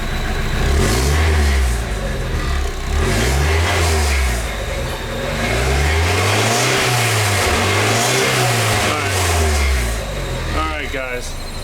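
A 1991 Mazda Miata with its stock exhaust revs up repeatedly, the engine note rising and falling in close, loud, sweeping pulls over a steady idle, with a voice or two breaking in now and then.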